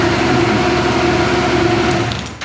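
A Yamaha Tracer 700 motorcycle engine runs at a steady idle just after starting, a close, loud, even mechanical hum that holds constant before tapering slightly at the end.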